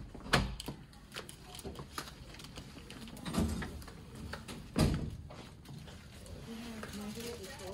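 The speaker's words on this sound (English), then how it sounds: "Knock on the door." Several sharp knocks on a hospital room door, spaced irregularly against a steady background hum, with speech-like murmur around them.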